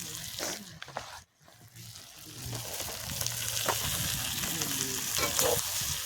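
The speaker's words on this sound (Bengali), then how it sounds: "আমাদের আলু ভালো করে কষিয়ে দেবো" Meat and potatoes sauté in a pot at an outdoor picnic, giving a steady, moderately loud sizzle with stirring scrapes that builds and holds after a brief dip near the start.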